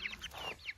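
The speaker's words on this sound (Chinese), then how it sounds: "看我妈平时咋喂这些小白鸡儿的，这小鸡儿知道都过来了" Small white chicks peep and cluck close by as they crowd in to be fed worms in a rural farmyard garden, a brief burst of high chirping calls.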